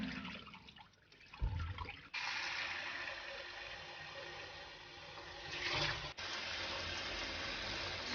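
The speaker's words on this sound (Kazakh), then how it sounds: "Жақсылап 3-4 рет шайып жуып аламыз." Corn kernels being rinsed under running water for a fermented corn drink, with a steady tap stream splashing into a bowl, a brief gurgling pour and swishing in the middle, close and fairly quiet throughout.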